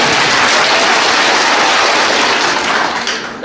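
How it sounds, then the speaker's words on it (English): Students clap hard all together in a school hall, a dense, steady roar of applause that holds at full loudness for about three seconds before thinning slightly at the end. "Please clap now with the full force."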